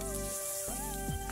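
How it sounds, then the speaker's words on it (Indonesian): Fish frying in hot oil until crispy, giving a soft, steady crackling sizzle over a faint tonal background for about a second and a half. "Goreng sampai ikannya itu garing."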